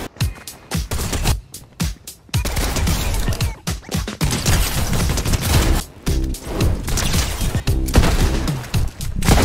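A Fortnite explosive repeater rifle fires in loud, close bursts, each sharp crack followed by blasts and thuds, broken by brief pauses and rising to heavy impacts over about nine seconds.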